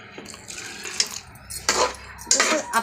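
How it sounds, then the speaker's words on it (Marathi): Water is poured into a pot of country chicken curry (gavathi kombadi rassa), heard as a few short splashing gushes separated by brief pauses, close and moderately loud. "आता आपल्याला हवं तेवढं आपण पाणी त्याच्यामध्ये ॲड करू"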